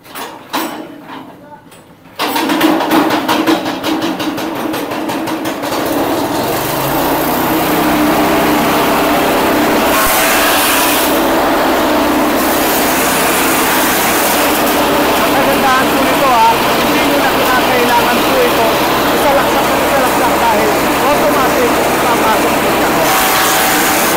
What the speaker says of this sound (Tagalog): Ayan po ang kanyang makina, original na Bridge and Straton.